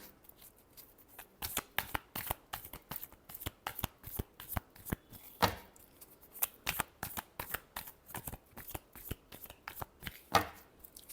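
Tarot cards being shuffled in a repeated series of crisp riffling slaps and flutters, close and fairly quiet, in an even rhythm with brief pauses between bursts.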